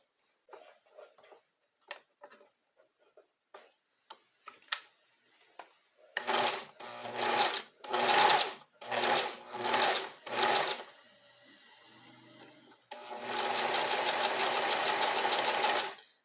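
A domestic sewing machine stitches knit fabric in a finish imitating an overlock seam, with a few soft clicks at first, then several loud, close whirring bursts, a pause, and a longer steady run.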